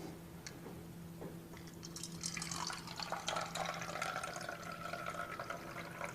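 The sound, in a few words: pouring water out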